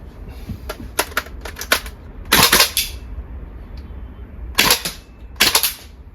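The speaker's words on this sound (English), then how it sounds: "That was a double tapping because it didn't have enough gas to cycle properly" Semi-auto shots from a VFC MP5 gas blowback airsoft gun in cold weather, sharp snapping reports arriving in uneven pairs and singles with some double-taps, close and loud over a low outdoor rumble.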